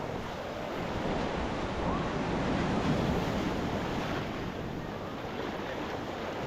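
Ocean waves wash continuously onto a California beach, a broad, steady roar of surf with gusty wind buffeting close to the microphone.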